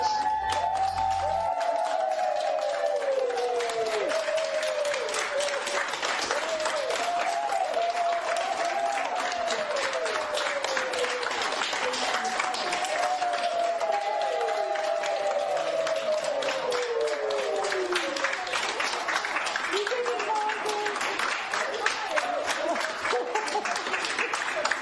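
Cheering and sustained applause from a crowd greet a 90-year-old woman as she walks out after receiving the first Pfizer COVID-19 vaccine dose; clapping runs steadily throughout, with whistles and shouts rising above it.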